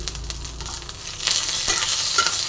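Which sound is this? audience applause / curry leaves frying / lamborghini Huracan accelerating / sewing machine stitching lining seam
curry leaves frying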